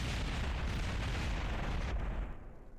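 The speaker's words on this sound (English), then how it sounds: "Look at those explosions." A loud, rumbling explosion in Kerbal Space Program roars continuously for a few seconds before fading out, booming and dense like a big blast.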